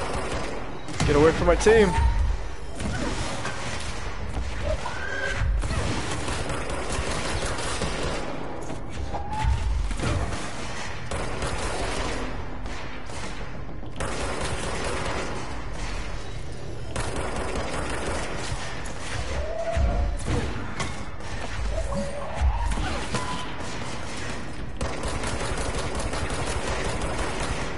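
Gunfire in a video game shooter, scattered shots and mechanical clatter running beneath continuous excited talk.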